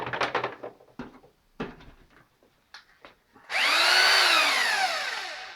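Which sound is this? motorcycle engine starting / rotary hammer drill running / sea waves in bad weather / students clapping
rotary hammer drill running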